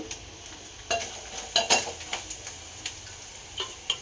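Grated coconut hits a hot tempering in a pan for a village-style greens sambar, giving a soft sizzle with scattered ticks and scrapes of a stirring spoon, close by and without talk.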